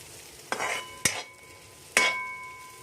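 Carrots and other vegetables are stir-fried in a pan for egg schezwan fried rice, with three sharp scraping metal strokes over a soft sizzle, close by and separated by short pauses.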